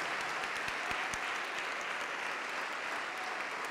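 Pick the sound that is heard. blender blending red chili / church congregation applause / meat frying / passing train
church congregation applause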